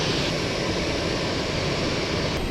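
Broad, steady roar of airplanes at an airport at night, a continuous loud whoosh from jet engines heard from an observation deck with no talk.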